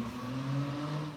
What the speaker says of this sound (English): That's a really loud car. Might want to get that muffler checked, dude.